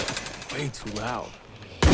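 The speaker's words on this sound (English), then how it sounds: "Your shotgun is very loud for real." A single loud shotgun blast in the video game State of Decay 2 bursts out near the end, after a short stretch of a voice speaking over quiet game sounds.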